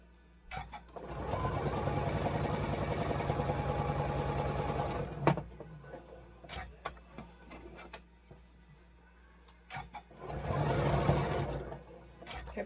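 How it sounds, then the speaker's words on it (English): A domestic sewing machine stitching pieces of a quilt block runs in two bursts, one long steady whir of rapid stitching, then a pause with faint handling clicks, then a shorter second run, close and fairly quiet. "now we're going to take our D, and we are going to sew right on top"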